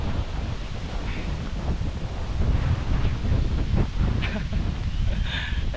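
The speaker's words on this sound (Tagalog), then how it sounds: "Taas ng hangin oh." Strong wind blasts across the microphone outdoors, a loud, continuous roaring buffet that swells and gusts throughout, with faint voices partly buried beneath it.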